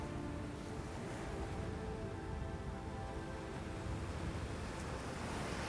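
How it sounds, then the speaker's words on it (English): Ocean waves break against coastal cliffs on the Oregon coast, heard as a faint, steady, distant rushing wash with no voices. "one cliff south takes waves that fall like rain on a garden"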